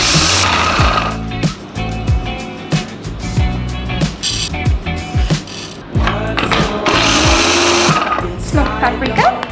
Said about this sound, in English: I'm gonna blitz them really quickly in my food processor to break them down into a powder